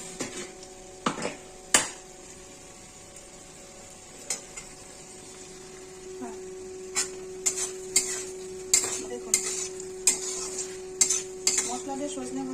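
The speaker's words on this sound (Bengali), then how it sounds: "সজনেগুলো ভাজা হয়ে গেছে।" Moringa drumsticks fry in spices in a pan, with a soft sizzle under repeated scraping stirs and sharp utensil clinks against the metal. A voice briefly speaks.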